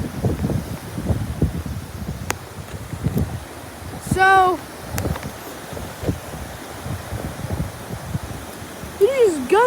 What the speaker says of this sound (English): this is gusts of wind of 40 miles. This is wind update.